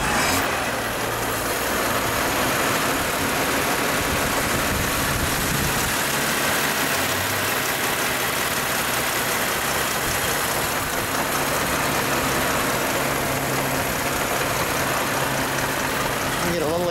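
A 1915 Packard Twin Six engine runs steadily, its exhaust note a dense, loud, unbroken rumble and hiss that holds throughout without pauses.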